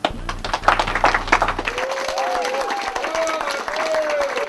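An audience at a small-town radio show in Franklin, Tennessee claps loudly and steadily throughout, with a musical tone and crowd voices rising beneath the applause.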